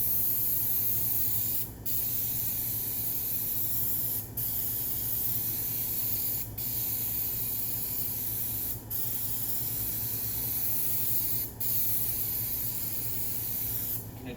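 Adhesive sprays steadily from an aerosol can onto a laminate wall panel, a continuous close hiss broken by five brief pauses as the nozzle stops and restarts.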